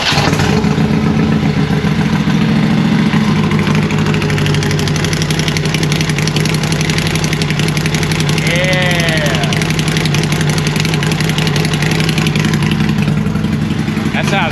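A Harley-Davidson Road King motorcycle with an Ultima Dominator 2-1 exhaust, still untuned, idles with a steady deep throb, close and loud, throughout.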